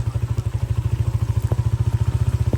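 A motorcycle pushes through flood water on a submerged village road, its engine thudding in a fast, even, loud pulse close to the microphone, with faint splashes and clatter above it.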